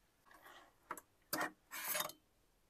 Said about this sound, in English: So you'll need this to take off the two screws on the sewing plate here.